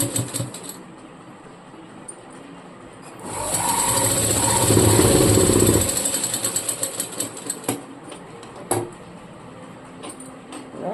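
A sewing machine stitches the shoulder seams of a frock in one loud, steady run of about three seconds. Quieter stop-start bursts of stitching and clicks follow it, close up, with no voices.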